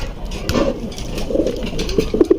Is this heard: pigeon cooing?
yes